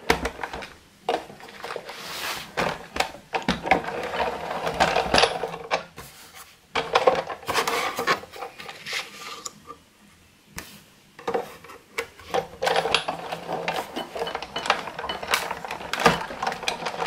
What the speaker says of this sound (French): Je vais couper ça et la passer dans la machine de découpe.